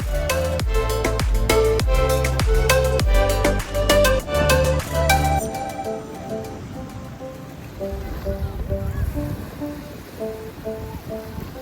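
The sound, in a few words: beach waves at Boracay, Philippines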